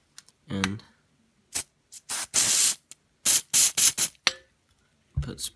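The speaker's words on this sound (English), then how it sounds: "take some motor spray," Short hissing bursts of aerosol motor cleaner sprayed on gears while rebuilding an XRAY XB4 RC car gear differential, several quick blasts in an irregular rhythm, close up, with brief bits of talk between them.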